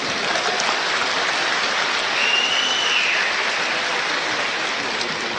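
Audience at an MMA fight event in Moscow applauding a fighter, with steady, dense clapping filling the hall at a constant moderate level throughout, no voices prominent.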